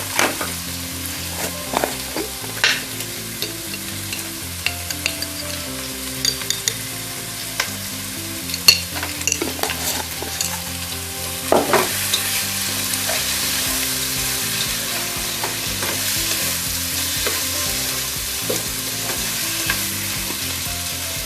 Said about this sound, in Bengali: চিংড়িটা একটু ভাজবো আমি, এবং এখন আমি একটু লবণ দিয়ে দেব সামান্য